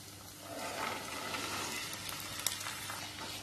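Boiled chickpeas for masala sundal fry in oil while being stirred, a soft steady sizzle with scraping and light clicks from the spoon, fairly quiet and close, with no speech.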